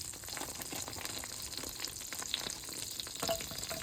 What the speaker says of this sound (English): And now we're going to cook a little bit of zucchini.